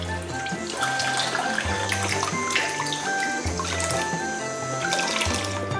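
Clams are rinsed clean under a running kitchen tap, a continuous splattering stream of water with shifting tones as the shells are moved and turned under it, close and steady throughout.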